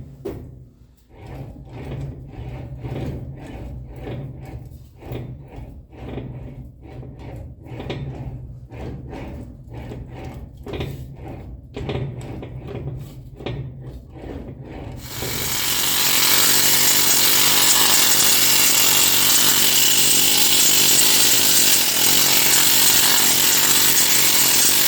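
Tools hammering, cutting and trimming material for a custom car dash insert, a run of sharp rhythmic knocks and scrapes for about fifteen seconds, then a loud steady broadband power-tool roar that holds to the end.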